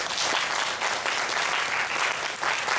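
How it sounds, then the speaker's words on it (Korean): Church congregation applauding during a Sunday service, steady dense clapping that fills the whole stretch at moderate loudness with no voices over it. "제가 이번에 박수 한번 쳐주세요"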